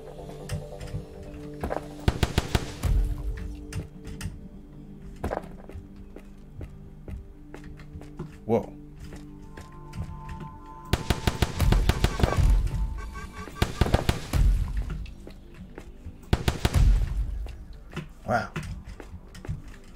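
Bursts of gunfire from the Egyptian Anunnaki gun in the Call of Duty zombies map Ley Lines, firing in several clustered volleys with gaps between them, over a background of game music and effects.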